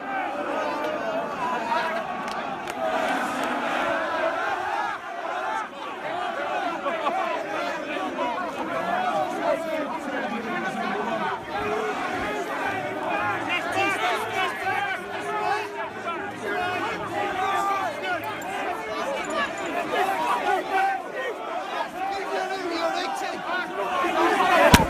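A crowd of football fans gathers outdoors, a steady din of overlapping voices and chatter with occasional shouts, continuous throughout.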